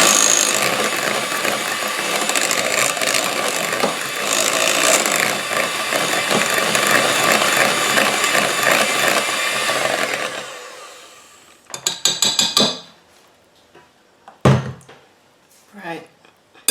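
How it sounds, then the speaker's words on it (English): Electric hand mixer whirring steadily through blueberry muffin batter for about ten seconds, close and loud, then switching off and followed by a few knocks and clatters. "This is the only part I'm going to do with the electric mixer."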